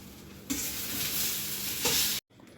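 Onion roasting in a pan until deep red, a close, loud sizzle with stirring scrapes that starts abruptly, swells briefly, then cuts off suddenly.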